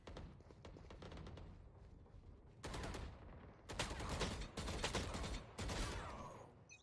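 Strafe-shooting gunfire rattles in bursts during a first-person shooter match: rapid volleys of shots, some stretches dense and loud, with short pauses between bursts.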